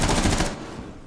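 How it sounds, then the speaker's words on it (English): A rapid burst of automatic gunfire from the video game Rainbow Six Siege, loud and close for about half a second before fading into a reverberant tail, with no talk. "gunfire on the ground floor."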